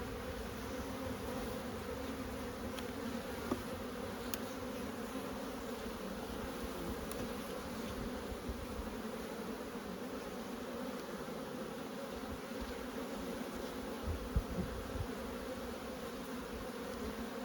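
Honeybees buzz steadily throughout a Buckfast hive inspection, a dense, continuous hum from a near swarm on frames of pollen, bee bread and drone brood, with no talk over it.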